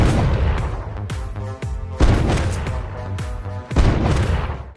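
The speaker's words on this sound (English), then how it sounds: "The sound of gunfire immediately alarmed the sheriff" Loud, close pistol shots in an indoor operating room, several sharp booming reports spaced about a second apart, each with a ringing decay.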